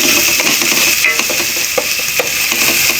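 Corned beef sautéing in a hot pan, a loud, continuous sizzle with scraping and stirring clicks from a utensil running through the whole stretch, close up and with no talk.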